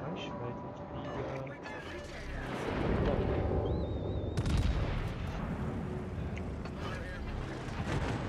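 Heavy naval shells from an enemy ship strike the player's warship in World of Warships, with booming impacts and rumbling battle noise over a steady sea and engine bed, fairly loud throughout.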